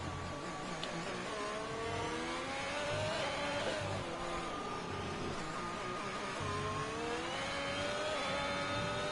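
Race car engines howl at high revs in a sim racing game on a Mexico circuit's stadium section, several cars droning and rising and falling in pitch steadily throughout, loud and continuous.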